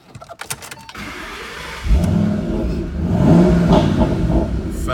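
A 2011 Ford Mustang Shelby GT500 convertible being started, a few clicks, then the engine catching into a loud, steady close-up rumble that swells into a brief rev before settling into a rough idle.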